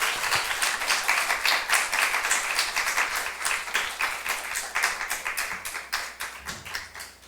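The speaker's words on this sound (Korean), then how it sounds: "앞으로 오실 때 우리 박수로 웰컴하도록 하겠습니다." Church congregation applauding as a visiting missionary comes forward: steady, dense clapping from many hands fills the room, holding even for several seconds before thinning out near the end.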